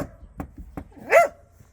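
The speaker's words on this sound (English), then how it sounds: "Oh, the barking's begun, has it?" A homestead dog gives a quick series of short, close barks, the last one louder and yelping, with no talk.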